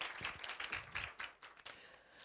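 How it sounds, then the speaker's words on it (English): A small audience applauding at a martial arts and mindfulness talk, a short round of faint, uneven clapping that tapers off within a couple of seconds. "Give him a round of applause."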